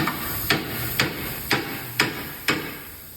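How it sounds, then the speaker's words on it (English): A hammer strikes metal in an even rhythm, six sharp taps about half a second apart, close and clear over a faint background hiss. "Take a hammer."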